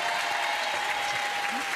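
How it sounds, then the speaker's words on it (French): A theatre audience applauding loudly for trumpet players, a dense, even roar of clapping that stays steady for the whole moment with no pauses. "Voici donc pour les trompettes qu'on peut applaudir très très fort"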